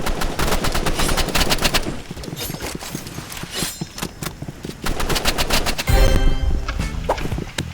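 Rapid rifle gunfire in the shooter game Rivals, dense loud bursts of repeated shots with brief gaps, joined by clattering game effects and footsteps.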